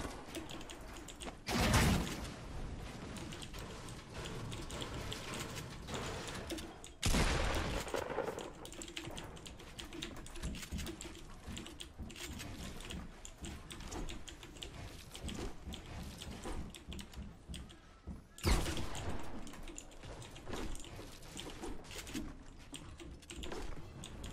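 Typing on a Razer BlackWidow Elite mechanical keyboard, with steady dense clicking of keys and a few louder bursts standing out along the way.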